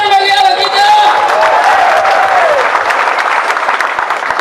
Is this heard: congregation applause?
yes